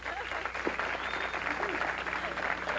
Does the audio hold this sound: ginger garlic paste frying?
no